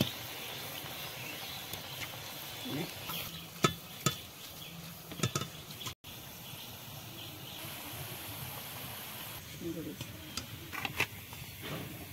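Jackfruit pitha cakes fry gently in a little oil in a pan, giving a low continuous sizzle with scattered spatula and pan clinks, under occasional quiet speech.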